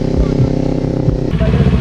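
A motorcycle engine runs steadily and loud up close during a long solo ride across an island in the Philippines, its low harmonic drone shifting slightly in pitch partway through as if changing speed.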